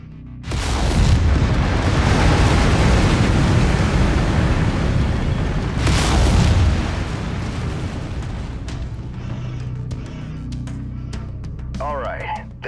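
Mech lasers fire in the video game MechWarrior 5, a heavy, roaring blast of sustained broadband noise. It lasts several seconds, surges again, then settles into a lower rumble with faint electronic chirps at the end.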